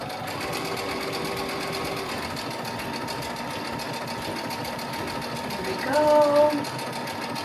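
A Destiny sewing machine runs continuously while stitching the curved edge of a dress, a close, even motor whir that swells briefly near the end, with a short spoken remark early on.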